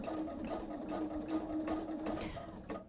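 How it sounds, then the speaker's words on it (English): Sewing machine running steadily on a top stitching pass with a long stitch length through cotton, 1/8 inch from the fold, using a universal 90 needle; a continuous close mechanical whir with a rhythmic needle beat, stopping near the end. "stitch length increased because I'm top stitching, and 1/8 inch from the fold"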